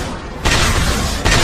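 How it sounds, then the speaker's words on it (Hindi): An animated ninja battle explosion in a Hindi-dubbed Naruto Shippuden movie erupts as a loud broadband boom, then a second blast hits about a second later, with no speech. "धमाका है।"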